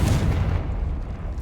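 Explosive Confringo spell cast in Hogwarts Legacy, a heavy booming blast that rumbles loudly and decays over about a second and a half, with no talk over it.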